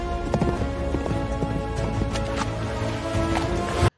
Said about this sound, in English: The sound of the hooves is distinctly different in each terrain.